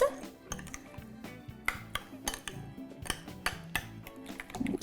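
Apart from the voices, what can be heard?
mixing creamy broccoli salad dressing in a bowl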